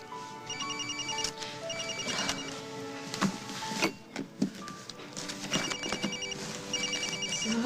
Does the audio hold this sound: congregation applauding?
no